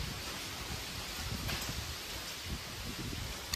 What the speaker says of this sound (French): il y a du bruit partout. C'est chiant, il y a du vent.